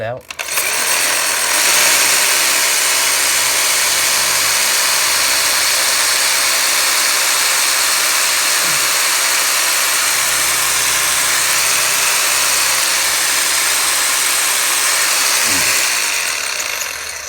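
A Bosch GHB 4-32 rotary hammer drill pounding in hammer mode into concrete, a loud continuous rapid hammering that runs steadily for the whole stretch with only brief starts and stops at the ends.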